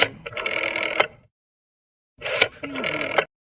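A telephone rings twice in short electric bursts, separated by a pause of silence.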